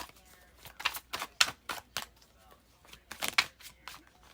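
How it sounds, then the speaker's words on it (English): A brand-new deck of tarot cards being shuffled, giving repeated crisp riffling bursts in an irregular rhythm, close and moderately loud with no talk. "I'm going to just shuffle this deck one more time since it's so new"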